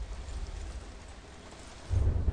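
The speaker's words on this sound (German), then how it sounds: "Warte auf den Donner." Thunder rumbles in the Battlefield Bad Company 2 video game over a steady wash of rain, with a deeper low boom swelling near the end of the short stretch and no one talking.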